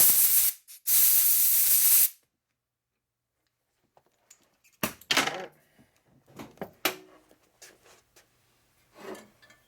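A bead blaster roars in two loud, close bursts as it cleans grease and crust off a 1951 Harley panhead motorcycle engine case, followed by quiet clicks, taps and handling noises in the cabinet.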